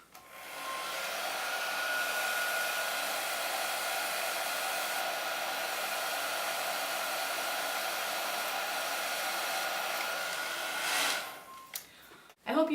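A hair dryer brush used for a blowout runs steadily and loudly for about eleven seconds with a constant airy whir, then cuts off near the end, followed by brief handling clicks.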